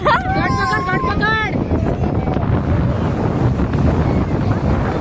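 Sea waves wash onto a beach in a continuous loud roar with buffeting wind on the microphone, while a voice briefly talks at the start.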